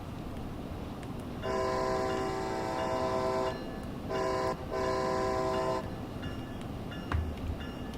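An ACS-64 electric locomotive in Train Sim World 2 runs on the Northeast Corridor, a steady rumble under repeated long horn blasts with short breaks between them, loud and close, no talking.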